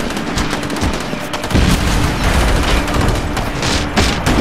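Loud, rapid automatic gunfire in the SOCOM 4 U.S. Navy SEALs shooter game, overlapping bursts and heavy shots in a continuous close-range firefight.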